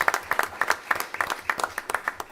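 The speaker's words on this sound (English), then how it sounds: "give them a round of applause anyway" Scattered, moderately loud applause from a small audience at a school board meeting, individual claps standing out in an uneven patter throughout.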